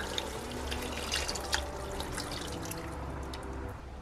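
Leftover marinade thinned with a little water is poured into a cooking dish, giving a soft continuous liquid trickle with a few small splashes, close and quiet over a low steady background hum.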